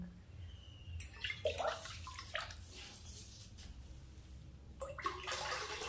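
Water is poured into a pot set for boiling milk in a village kitchen, coming in short splashing bursts with pauses between, fairly close and moderate in level, with no talking.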